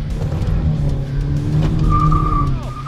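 A rally car in the video game Rally FullCars 2.0 accelerates with a loud, steady engine drone that rises in pitch, a brief tyre squeal near the end.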